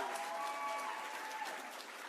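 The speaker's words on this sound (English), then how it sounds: "One more round of applause." A crowd claps at a closing celebration, continuous even applause that tapers slightly toward the end, with a faint tonal hum from a sound system running underneath.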